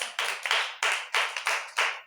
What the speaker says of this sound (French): Il faut applaudir pour toi-même.